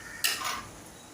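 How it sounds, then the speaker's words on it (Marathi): A jar of ground peanuts, green chili and garlic gets shaken: one sharp clunk of the contents knocking inside, fading quickly into quiet. "असं हलवून घ्यायचं आहे म्हणजे खाली शेंगदाणे चिकटले असतील तर ते निघून येतील"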